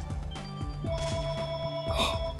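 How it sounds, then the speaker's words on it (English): A telephone bell rings in a steady ringing tone in a quiet room, close by and moderately loud, with no voice over it. "Oh, man, phone's ringing."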